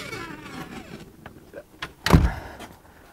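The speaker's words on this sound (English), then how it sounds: "Probably could shut my door." A single solid door thump lands near the end, preceded by faint rustling and mechanical sounds.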